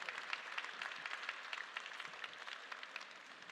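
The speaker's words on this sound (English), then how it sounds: "Would you give them a round of applause for me," A conference crowd at CPAC 2025 in Poland applauds in a steady, fairly distant wash of clapping that holds evenly for a few seconds.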